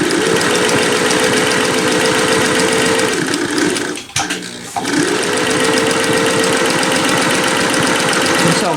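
A Singer Touch and Sew 758 sewing machine stitches with a loud, close, rapid mechanical whir, winding down and pausing briefly near the middle before speeding back up to a steady run, with no talking.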